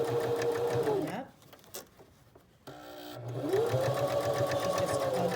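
A sewing machine stitching a fabric mask whirs steadily, stops for a short pause while the needle stays in and the presser foot arm is raised and lowered, then resumes stitching, with a voice speaking over it.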